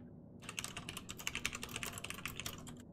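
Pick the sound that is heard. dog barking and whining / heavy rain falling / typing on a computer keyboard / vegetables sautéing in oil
typing on a computer keyboard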